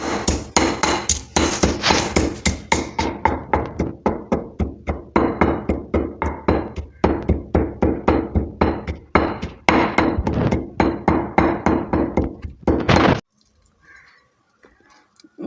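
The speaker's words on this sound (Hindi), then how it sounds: "तो अब ये मैं पीस लेती हूँ मसाला, इसके अंदर लहसुन अदरक भी डाल के इसको बना लेते हैं।" Garlic, ginger, green chillies and dry coriander being pounded into a masala paste for Lahori fried fish, a steady run of loud, close, rhythmic thuds and knocks for about thirteen seconds, then near silence.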